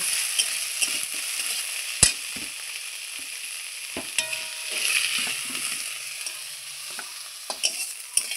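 Spring onion stalks frying in a pan, a close, continuous sizzle punctuated by sharp clicks and scrapes of a spatula stirring at irregular intervals.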